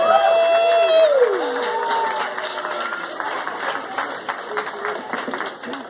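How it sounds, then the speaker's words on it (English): An audience at a Shabbat Project community event in Cherry Hill breaks into a round of clapping and cheering, moderate and roomy, with a sliding tone and some voices mixed in at the start. "a big round of applause for all of the events that have taken place for the Shabbat Project"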